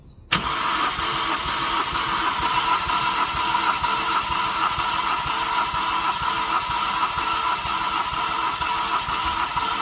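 A Toyota Corolla engine cranks continuously on the starter during a compression test, starting abruptly and then holding a steady, loud, close churning drone to the end with no voices.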